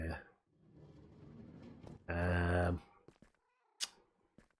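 Cats in Minecraft give a drawn-out, clear meow, loud and close, set among quieter clicks and faint background rustle, with a softer low purr-like murmur beforehand.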